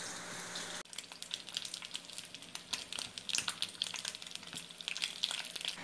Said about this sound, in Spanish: la vamos a cortar en tiritas para luego ponerlas a sofreír en su mismo aceite